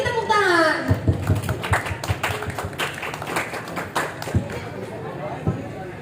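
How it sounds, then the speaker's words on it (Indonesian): A school audience in Indonesia applauding a group performance, a burst of scattered clapping that thins into irregular claps, with a voice briefly heard at the start. "Beri tepuk tangan."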